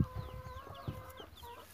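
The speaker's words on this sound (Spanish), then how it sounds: "Ahí hay tres pollitos ya." Three newly hatched chicks of varied colors give faint, high, falling peeps, mixed with soft low clucks from a hen nearby.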